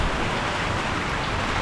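Heavy unseasonal rain with hail falls in a rural farming area, a dense, even wash of noise that holds steady throughout without any voices.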